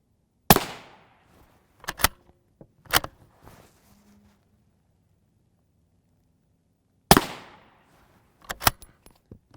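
Rifle shots from M193 ammunition fired at a Hesco armor plate ring out as sharp, loud single cracks, a few spaced apart with silence between, some followed by faint metallic impacts.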